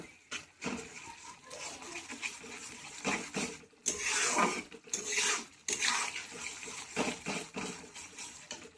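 Spinach is stirred in a pan as it cooks, with irregular scraping and rustling of a spoon through wet leaves and bursts of bubbling, sizzling moisture, moderately loud and close.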